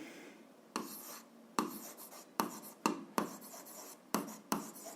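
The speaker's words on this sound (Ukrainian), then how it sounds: "Так і записуємо, отже, пишемо" Pen or marker scratching across paper or a board while a math solution is written out, a series of short strokes starting with sharp onsets and trailing off in an uneven rhythm, close and fairly quiet against a soft background hiss.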